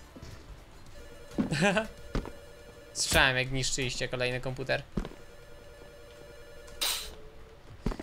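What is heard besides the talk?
telephones ringing in the video game CS:GO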